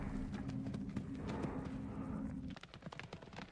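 A show-jumping horse's hooves thud in a quick, rhythmic clip-clop over a low steady hum, with the footfalls becoming more distinct and sharper near the end.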